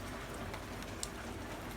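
Rain falls steadily on a home garden of bromeliads and desert roses during a heavy storm, a dense, even hiss of drops with no pauses and no voices.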